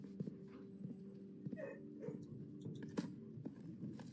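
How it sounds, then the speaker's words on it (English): Dogs in the video game Blue Prince give soft, faint whimpers, snuffles and small yips, scattered irregularly over a low background hum. "Hello, doggies."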